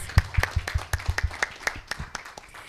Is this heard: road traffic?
no